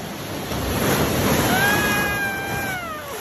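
High-tide sea waves surging close by, a loud continuous wash of surf with wind buffeting the microphone and a brief high-pitched wavering cry layered over it near the end.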